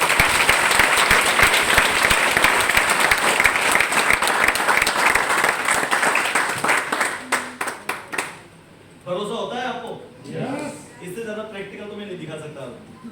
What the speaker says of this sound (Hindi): मैं चाहता हूँ एक बार उस घोड़ के लिए जोरदार ताली बजाएं